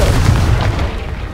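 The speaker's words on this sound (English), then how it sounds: "Confringo!" Confringo spell explosion in Hogwarts Legacy: a loud, close, booming blast with a rumbling low-end tail lasting over a second, heard alone.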